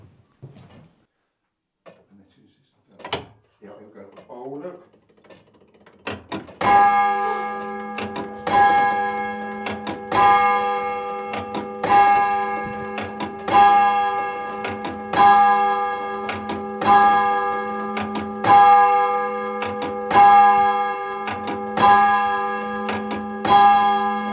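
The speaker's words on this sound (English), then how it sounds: "you're traveling around the country and you you hear the church spire chime." Church bells in Whitechapel, London ring out in a steady, repeating peal of loud, sustained strikes with long ringing overtones, following a few seconds of quiet footsteps and faint movement.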